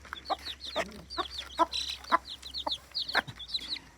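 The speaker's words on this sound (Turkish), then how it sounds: "Şu sabırsızlanan kur tavuğu ve civcivlerini bir çıkaralım bakalım." A broody hen clucks in short repeated bursts mixed with high peeps from her four chicks, close by and irregular, with no talking.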